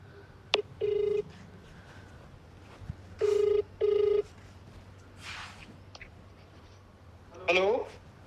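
An outgoing phone call sounds as a few short electronic beeps, then three separate ringback tones spaced apart. Brief voices and a faint rustle are heard between the tones, and the sound stays close and moderately loud.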